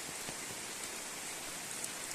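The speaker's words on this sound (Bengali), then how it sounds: "দেখেন, অনেক বৃষ্টি, বৃষ্টি অনেক জোরে বৃষ্টি হইতেছে।" Heavy rain pours steadily in Bangladesh, a dense, even hiss of countless drops at close range with no voices over it.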